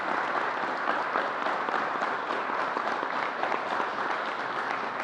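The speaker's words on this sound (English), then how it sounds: "Let's give the NFTA a round of applause." An audience applauding the NFTA transit authority at a COVID vaccine press briefing, steady dense clapping at moderate distance, continuing without speech.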